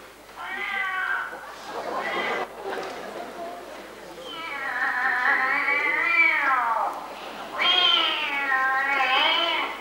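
Repeated drawn-out meows and wails sound during an outdoor historical festival performance, a few long calls rising and falling with short pauses between them.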